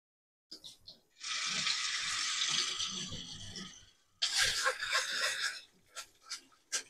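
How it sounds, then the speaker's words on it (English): Rice being rinsed in a strainer under a running kitchen tap: a steady hiss of flowing water for about three seconds, a short pause, then another gush with splashing and trickles, close and with no voices. "I like to rinse my rice in a strainer like this."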